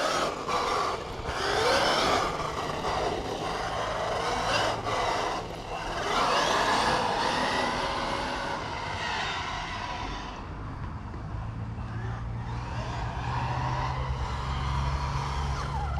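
A race car that handles poorly drives around a circuit, its engine droning continuously up close with shifting pitch and rumbling road noise throughout.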